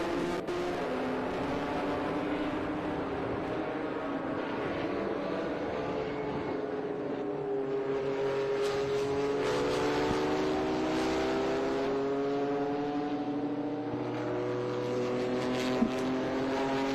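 Air-cooled Porsche race cars run their first lap on track, a steady engine drone with shifting overlapping tones that holds constant at a distance for the whole stretch.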